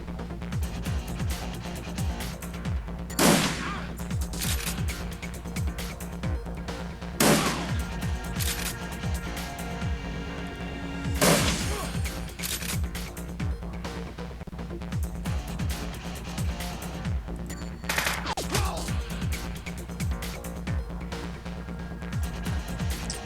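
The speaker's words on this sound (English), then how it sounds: "It's important that the Beard shotgun has 3 shots." Shotgun blasts in a video game: a few loud, sharp booming shots spaced several seconds apart over a busy, continuous bed of rapid gunfire and battle noise, with no talking.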